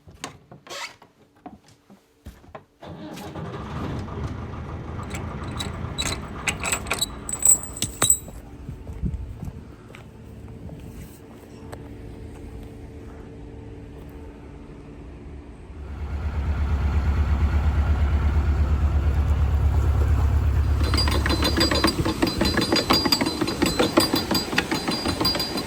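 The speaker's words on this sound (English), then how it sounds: "I'm going to get the boat started." Clinks and handling noises, then a narrowboat's engine starts partway through and settles into a loud, steady low diesel rumble that continues to the end.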